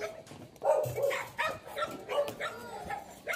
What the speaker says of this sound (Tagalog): May mga aso, guys. Daming aso.